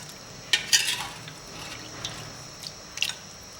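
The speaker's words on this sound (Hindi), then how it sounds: "हल्के से इसे हिला दें," A spoon scrapes and clinks as mutton curry is gently stirred in a pot, with a few distinct close metallic taps and soft swishes, fairly quiet and without speech.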